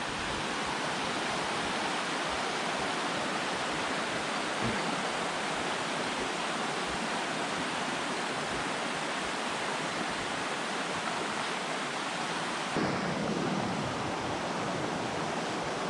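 A river flows right beside a campsite at Fraser's Hill, Malaysia, giving a dense, steady rushing and hissing water sound that continues unbroken, with no voices.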